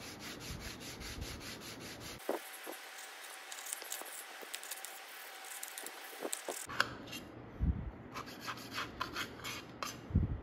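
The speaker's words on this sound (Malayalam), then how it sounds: "നമുക്കിതിൻ്റെ സൈഡ് ഒന്ന് കട്ട് ചെയ്തെടുക്കാം" A knife trims the crusts off an egg sandwich with soft, close rasping and sawing strokes, faint and textured, across a quiet room.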